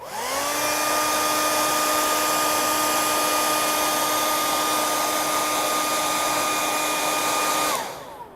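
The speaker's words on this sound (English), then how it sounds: "you can hit it with a blow dryer" A blow dryer aimed at foam runs steadily for about eight seconds, a loud, close rushing blast with a whining tone, then cuts off abruptly with no talking over it.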